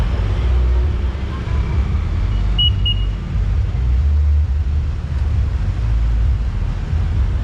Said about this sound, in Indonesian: Ramai motor dengan bentor